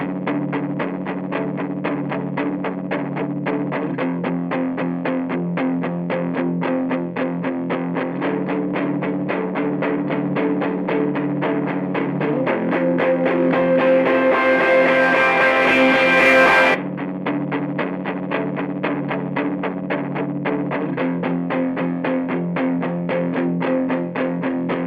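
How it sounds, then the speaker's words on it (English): A music recording played dry, then with reverb added partway and muted again, a dense sustained distorted tone with a steady pulsing rhythm, the middle section brighter and fuller before cutting back abruptly. "So let me show you what it sounds like without the reverb,"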